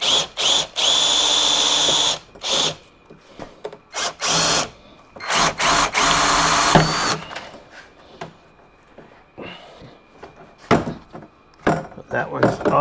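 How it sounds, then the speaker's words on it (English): Power drill boring holes into a Kawasaki Teryx door during a custom upper door extension install, several loud whining bursts separated by pauses, with a person talking in between. "You don't want to drill bigger than this because we're going to have to use self-tapping screws later."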